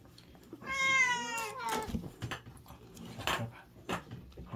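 A cat meows in a long, clear wavering call near the start, followed by a few softer sounds and household noise, with no talking.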